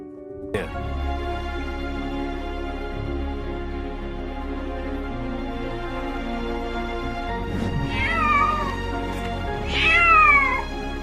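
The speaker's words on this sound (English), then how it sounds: "This guy heard a desperate cry from a ditch and realized that there's a living being in the bag." A grown cat left in a bag in a roadside ditch cries out in loud, desperate meows and strained wails, several drawn-out calls over a steady background hum.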